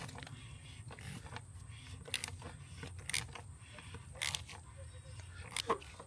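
A socket wrench ratchets quietly while tightening the oil drain plug on a BMW B58 engine, giving soft, evenly spaced clicks and creaks over a low background hum.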